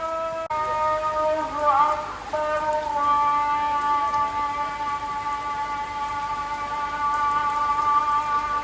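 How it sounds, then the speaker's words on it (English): Steady rain pours down and floods a street in Bali, a dense, even hiss that runs throughout while a melodic chanted call to prayer carries faintly in the distance. "So it's raining, like I said, and it's flooding the street"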